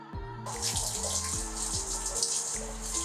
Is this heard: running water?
yes